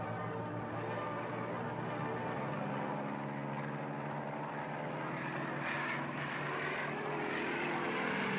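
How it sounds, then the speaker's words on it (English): Large propeller transport planes taxi down a runway for takeoff, a steady loud droning engine roar with dense low hum that continues unbroken throughout. "The big transport planes taxi down the runways for the takeoff"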